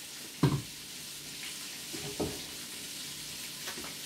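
Olive oil sizzling softly in a pan while sautéing for a carbonara sauce, with a few brief stirring clatters over a steady low frying hiss.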